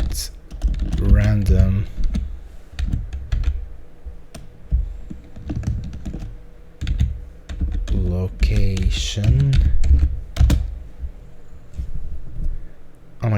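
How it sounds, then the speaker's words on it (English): Loud, clacky keyboard typing runs throughout, with rapid keystrokes close to the mic while a person talks over it. "I think my keyboard sounds way too loud in this video"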